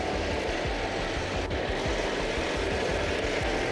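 A Volkswagen Beetle engine idles close by with a steady, low, chugging rumble at an even rhythm, no voices over it.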